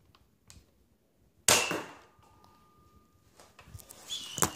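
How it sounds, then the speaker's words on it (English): Mechanical clacks as a Nerf Dual Strike toy blaster is cocked: a sharp, close snap followed by softer rattling slide noises and a final click, with quiet gaps between them. "Sorry, I accidentally cocked it, but anyway, that's the dual strike Nerf gun"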